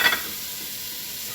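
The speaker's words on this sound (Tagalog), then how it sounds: "ilalagay ko na yung kamatis" Tomatoes hit a hot pan of frying salona, giving a brief burst of sizzle at the start that settles into a steady, soft hiss.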